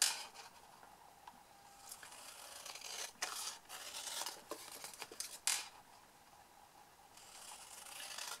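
Scissors snip through paper to trim away the corner triangles of a surprise fold box, a run of crisp close cuts and rustles with a few sharper snips, no talking.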